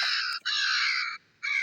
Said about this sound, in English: Got some yapping ravens.